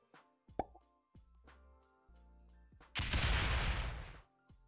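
Artillery fire in a strategy video game, a sustained loud roaring burst lasting over a second after a series of soft plopping interface clicks and tones.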